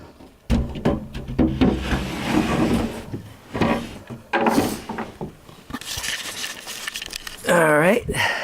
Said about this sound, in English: because I have to put this drawer back.